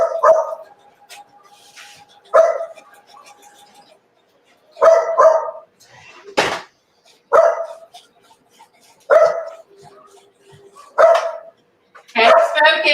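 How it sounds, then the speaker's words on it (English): A dog named as Smokey barks repeatedly in short bursts, roughly every couple of seconds, fairly close indoors, with a faint steady hum between barks and a quick final flurry of barking. "go outside and bark."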